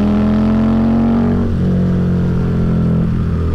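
A custom Harley-Davidson V-Rod motorcycle with a Porsche-developed engine revs loudly up close, its pitch rising and dipping through two throttle blips with no talk.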